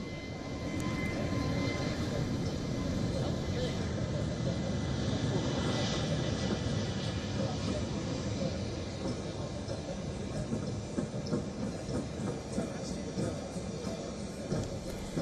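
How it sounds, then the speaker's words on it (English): Aircraft engine of a plane arriving at Palam Air Force Station in New Delhi, a steady broad roar with a whining hiss, continuous and fairly loud for the whole stretch. "Vance received a red carpet welcome as he landed in New Delhi's Palam Air Force Station."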